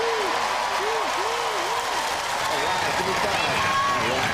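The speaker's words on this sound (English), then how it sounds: "you all deserve a big round of applause" Loud, sustained applause and cheering from the studio audience at a robot combat show, dense and continuous throughout, with some tonal arena sound effects sweeping underneath.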